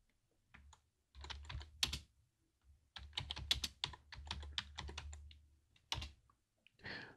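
Bursts of quick, crisp keystrokes on a computer keyboard while entering a password during a server login, close and clear in a quiet room, with short pauses between flurries of typing.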